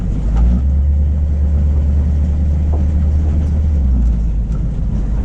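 A car fitted with electric fans on a test drive, its engine and road noise forming a steady, loud low rumble throughout with no talking.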